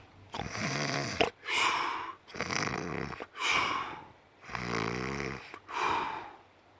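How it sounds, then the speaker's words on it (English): Loud, rhythmic snoring, about six deep rattling breaths alternating between inhale snores and exhales, close by with short pauses between. "Jemima was fast asleep, snoring like a steam train."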